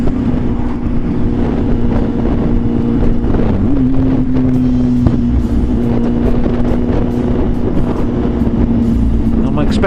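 A motorbike with a loud exhaust runs steadily up close, its engine drone holding one pitch with a brief rise and dip partway through, under wind buffeting and road noise.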